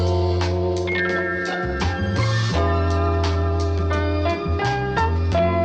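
Hip hop drum loop run through the Wolf compressor, a saturated, older-style character with thick sustained bass, layered melodic tones and regular percussive hits, dense and loud without any talking.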